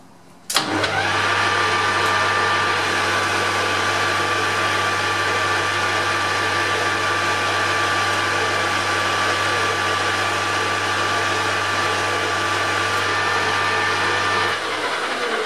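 A machine tool, likely a lathe, takes a 0.7 mm cut. The steady motor hum and grinding drone start abruptly and run evenly for about fourteen seconds before dropping off, with a faint high whine above.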